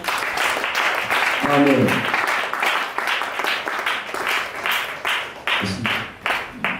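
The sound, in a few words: congregation clapping hands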